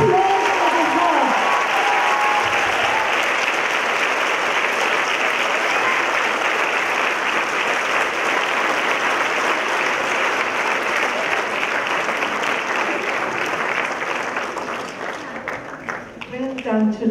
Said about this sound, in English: Give them the applause of the heart.